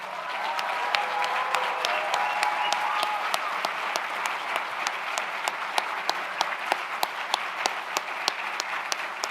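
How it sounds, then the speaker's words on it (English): An audience at a biodesign summit symposium claps steadily in sustained applause, a dense wash of hand claps with sharper individual claps standing out, continuing throughout at moderate volume. "please join me in giving him a round of applause."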